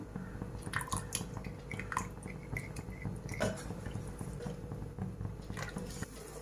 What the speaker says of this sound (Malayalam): ഇപ്പോൾ നമ്മുടെ വെള്ളം നന്നായിട്ട് തിളച്ചിട്ടുണ്ട്.